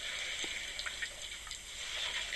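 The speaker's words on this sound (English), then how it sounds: "listen to these elephants as they're slurping up all that water and splashing with their trunks" Elephants slurping water and splashing with their trunks at a waterhole, a steady wet rushing and trickling with small splashes, close and continuous, no voices.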